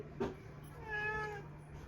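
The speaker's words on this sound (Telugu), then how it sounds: "మా పిల్లి అట్లా అరుస్తూనే ఉంటుంది" A house cat gives a single drawn-out meow, soft and close, with a short sharp cry just before it in a quiet room.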